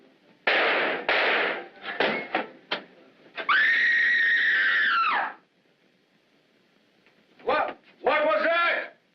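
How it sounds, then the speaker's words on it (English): A woman's sustained, high scream in a 1945 film drama, loud and lasting about two seconds, set between bursts of tense dialogue, with other voices speaking before and after it. "What was that? Who screamed?"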